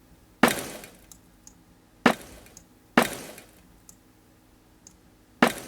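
Snare drum hits layered with field-recording textures, four sharp, loud cracks spaced irregularly, each with a slightly different glassy, breaking-like tail and faint ticks and clinks in between.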